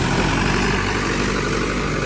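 A Mahindra 572 tractor's engine idles steadily up close, a loud, even rumble with no revving.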